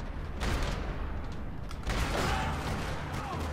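Gunfire during a slow-motion shoot-dodge in the Max Payne 3 game, a couple of heavy bursts of shots with a muffled, smeared quality, fairly loud, over a continuous rumbling background.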